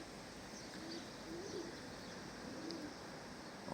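A two-year-old female Dumanlı eke pigeon gives a few soft, low coos at intervals, faint and fairly near against a steady background hiss with no talking.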